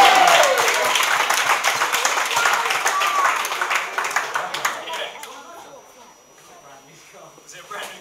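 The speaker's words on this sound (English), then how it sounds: "a round of applause for Paul for smashing up the buggy car" Guests at a wedding reception break into a loud round of applause that fades gradually into scattered claps.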